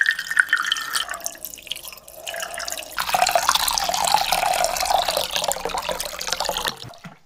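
Water pours into a container for washing coins, starting with a faint trickle and dripping, then a fuller, steady splashing stream of moderate loudness that runs for several seconds before cutting off.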